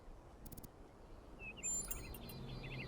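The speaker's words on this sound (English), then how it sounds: "Do you hear the birds chirping outside the dome?" Birds chirp outside a dome in the video game Talos Principle 2, with a few quick high tweets and trills over a faint ambient hum.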